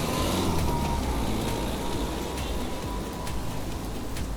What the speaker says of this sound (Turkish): Bugün dışarıda çok fazla yağmur yağıyor.